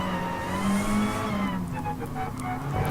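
Race cars in Gran Turismo Sport pull away from the start at Suzuka, a steady pack of engine drone with rising and shifting pitches that fade slightly before building again, with no talk over it.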